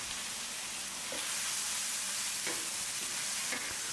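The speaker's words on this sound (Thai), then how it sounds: "เราจะผัดด้วยไฟแรงๆ ในขั้นตอนต่อจากนี้นะครับ" Minced pork with pickled bamboo shoots sizzles steadily in a pan over high heat for a spicy stir-fry, with a few scrapes of the spatula stirring it at intervals. The frying stays close and constant, and no one speaks.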